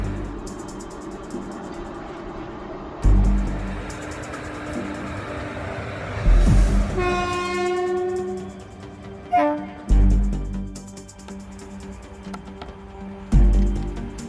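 A train rumbles past as its horn sounds in a long blast, with heavy thuds and rattling of cars before and after.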